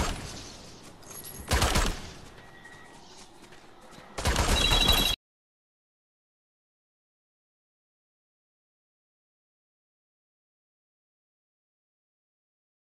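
Two loud bursts of gunfire in Fortnite, the first short and the second a sustained rapid volley, set against quieter game ambience before cutting to silence.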